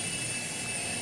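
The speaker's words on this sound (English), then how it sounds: "the custom F-mod sounds you hear when they are operating are recorded from the real" Jet engines of a Cessna Citation 560XL run steadily in a flight simulator, a loud continuous roar with a high whine on top, alone and unchanging throughout.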